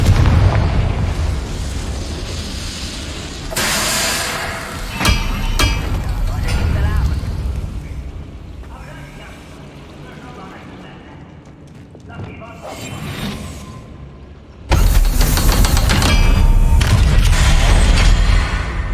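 In the Hogwarts Legacy video game, the Confringo fire spell sets off heavy booming blasts, with a sharp burst near the start and another big explosion near the end, amid game sounds and voices.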